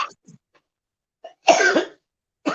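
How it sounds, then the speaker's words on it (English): A person coughs in a few sharp, close bursts, with one longer hacking cough in the middle and another starting at the end, separated by near silence. "Oh, I hear coughing."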